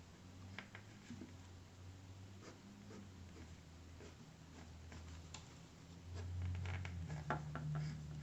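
An Asvine P80 piston-filler fountain pen nib scratches and ticks lightly across paper in a close, quiet series of strokes, with a low steady hum in the background.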